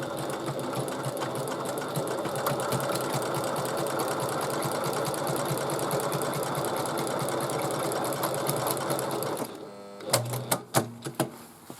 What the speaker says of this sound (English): and top stitch along there.